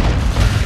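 A grenade explodes in Call of Duty: Modern Warfare II, a loud, booming, low-heavy blast that fills the brief moment without any voices over it.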